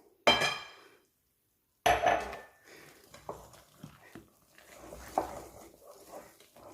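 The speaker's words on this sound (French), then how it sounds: "Donc bien mélanger vraiment le tout." Pancake batter of flour and milk being whisked in a bowl, starting with two sharp clinks and then moving into a steady run of light tapping and scraping strokes, close and moderately loud.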